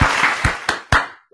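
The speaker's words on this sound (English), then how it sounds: "Y'all clap it up for Morehouse Journalism." A small group at a podcast recording clapping in a brief close burst, with a few distinct louder claps before it quickly fades out.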